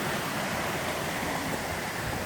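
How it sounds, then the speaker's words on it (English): A small waterfall and creek run along a trail, making a constant broad rushing hiss of water, loud and close, with no voices. "There's a little waterfall coming down, creek running down through"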